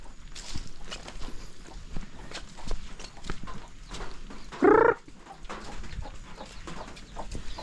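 Chickens cluck and scratch nearby on a farm amid background noise, with one loud, sharp squawk standing out midway.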